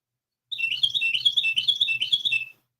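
A bird outside gives a rapid, loud series of high chirping squawks lasting about two seconds, heard alone with no talking.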